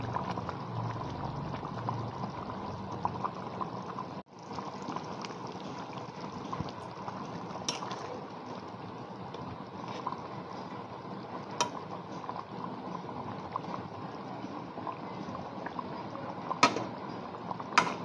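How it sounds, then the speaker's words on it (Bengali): A curry of pointed gourd, potato and egg simmers in a covered pot, giving a steady, soft, continuous bubbling and hissing with occasional faint clinks, heard alone. "তরকারিটা কি সুন্দর ফুটছে।"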